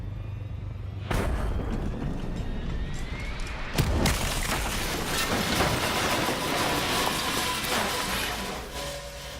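A deep booming video game explosion in Call of Duty zombies mode erupts, followed by a second heavy impact and a long rumbling roar of debris that lingers and slowly fades.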